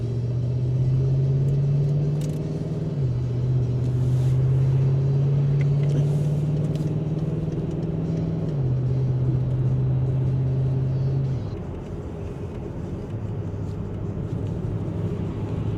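A car drives off along a road in Germany, its engine droning steadily with audible gear changes as it pulls away and gathers speed, road rumble continuous underneath, no voices.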